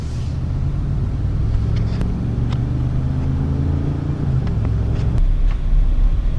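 A 2004 Chevy Duramax diesel truck drives along a back road, its deep engine rumble heard steadily from inside the cab, with loud low drone, slight shifts in pitch and occasional clicks and rattles.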